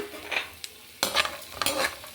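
Ash gourd halwa ingredients fry in ghee as a spoon stirs them, with bursts of sizzling and scraping sweeps against the pan separated by short quieter gaps, close and clear.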